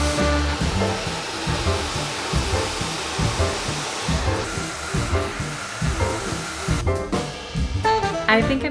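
A hair dryer runs steadily and loudly, drying hair after a smoothing hair mask, its broadband airflow roar continuous for the whole stretch with slight shifts in tone near the end.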